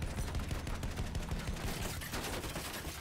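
Two light machine guns in Battlefield 1 fire continuously at an attack plane, a dense, steady rattle of rapid shots with no break, loud and close.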